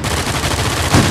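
Rapid automatic gunfire from the video game Uncharted 4 rattles loudly and continuously in a tight burst lasting about a second.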